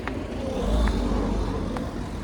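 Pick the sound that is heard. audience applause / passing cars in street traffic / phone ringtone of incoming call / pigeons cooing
passing cars in street traffic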